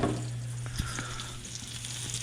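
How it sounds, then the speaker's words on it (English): Short ribs browning in hot oil in a pan give a steady, close sizzle and crackle with a low hum beneath and a few small pops, with no voices. "I'm getting the short ribs in there. I'm gonna brown these guys up."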